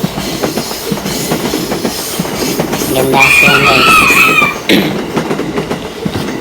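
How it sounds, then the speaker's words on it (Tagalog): A train arrives at a station in Japan with rumbling, clattering wheels and a loud brake squeal in the middle, and someone speaks briefly over the noise. "So ayan na guys, dumana yung tren."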